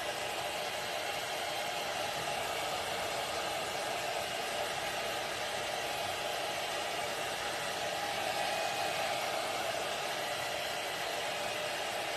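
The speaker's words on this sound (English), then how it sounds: "Okay, let me dry this." A hair dryer blows steadily and close up for the whole stretch, a continuous loud whooshing hiss used to dry a handmade DIY sign.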